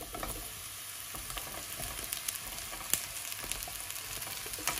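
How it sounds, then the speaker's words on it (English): Mushrooms sautéing in a little oil in a pot for a broccoli and mushroom stir-fry, a soft even sizzle with scattered crackles and pops, moderately quiet and continuous, with no talking. "First thing that we're gonna do, we're going to saute in our mushrooms,"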